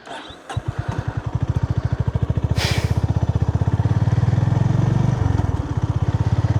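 A motorcycle engine starts and runs with a steady, rapid thumping idle close up, revving slightly, with a short hiss partway through.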